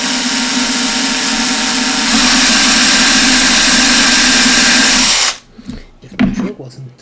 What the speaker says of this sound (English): And you just drill through from the back.